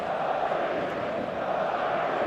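Stadium crowd noise in eFootball builds before kickoff as a broad, constant roar of distant massed voices and cheering that stays steady and moderately loud throughout, with no clear individual speech.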